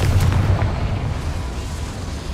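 Confringo fire spell explosion in Hogwarts Legacy, a loud, booming blast that hits at once and rumbles away over about two seconds.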